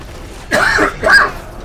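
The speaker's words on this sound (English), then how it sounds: "This is that cough that I've not been able to get rid of for like 3 weeks, 4 weeks now." Two rough, close coughs in quick succession from a person with a cough that has lingered for three to four weeks, loud and chesty with a short gap between them.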